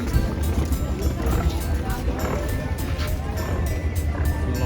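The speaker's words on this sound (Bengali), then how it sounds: "long tail boat" A long-tail boat engine droning on the water at Phi Phi Island, a steady rumbling hum with splashing and wind noise, while people talk over it.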